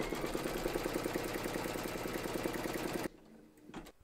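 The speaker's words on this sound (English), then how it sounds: "pop your hoop into your machine and stitch round number one" An embroidery machine stitches a placement outline for an in-the-hoop towel topper, giving a fast, steady mechanical chatter for about three seconds before it stops abruptly, leaving faint quieter handling noises.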